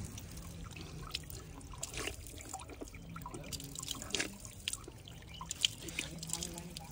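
Water trickles and drips steadily from an outdoor tap, a soft continuous splashing with scattered louder drops over background noise.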